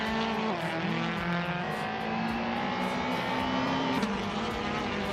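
Racing Minis, a Scirocco and a Lada scream past on track, their engines droning and shifting pitch as they brake and accelerate through corners, loud and continuous with no voices.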